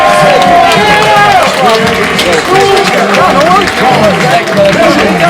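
Live wrestling crowd at an MLW show in New York City, a loud, dense roar of cheering, shouting and clapping filling the whole stretch, with voices calling out above the din.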